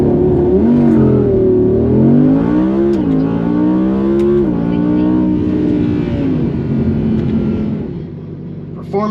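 An Audi R8 V10 launches hard from a standstill in performance mode with manual shifting, its engine climbing loudly through rising revs with a brief drop at each gear change before easing off near the end.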